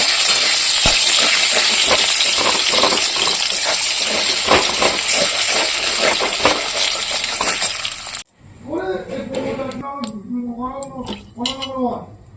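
Potatoes frying in oil in a pan while chowmein is being made, giving a loud, steady hiss with frequent crackles, then breaking off into a sharper, uneven sizzle.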